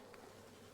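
A quiet, unbroken buzz of honey bees rises from a deep hive box crowded with bees while the colony is being split, with no talking.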